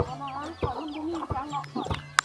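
Chickens in a Lao village cluck close by in short, irregular calls, with a sharp peep or two near the end, while people talk quietly in the background.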